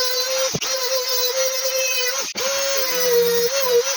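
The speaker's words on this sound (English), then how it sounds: "It cuts it very well, so now I can just grind that part and make it very flash" Oscillating multi-tool cutting and grinding a plastic Suzuki SV650 motorcycle mudguard, a close, steady high-pitched buzzing whine with two brief dips where the blade pauses, no talk.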